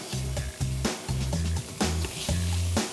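Already-cooked pork sizzles and crackles in a hot pan, with repeated bursts of frying hiss and low clattering as it is moved around; no one speaks.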